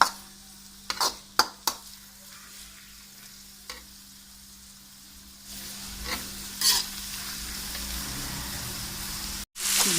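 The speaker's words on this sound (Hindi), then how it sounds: "थोड़ा सा हल्का सा फ्राई करना है।" Mutton lightly frying in a karahi for Peshawari namkeen gosht, a quiet steady sizzle broken by a few sharp clinks and scrapes of stirring, close by with no talking.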